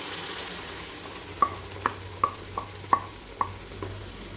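Tomato puree with turmeric cooking in a pan, a soft bubbling simmer under which a spoon clinks and taps against the pan rim about a half dozen times in a quick series.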